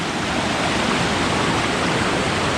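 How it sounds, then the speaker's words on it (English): A raging waterfall on a creek in northern Wisconsin pours in a loud, dense, unbroken roar of rushing water, close and steady with no other sounds. "A nice little waterfall, or big waterfall,"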